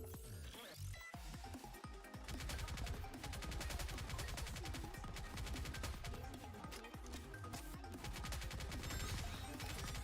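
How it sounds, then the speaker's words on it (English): Assault rifle gunfire in the game Nikke, a continuous dense barrage of rapid shots and impacts running steadily throughout, fairly quiet overall. "Fire an assault rifle"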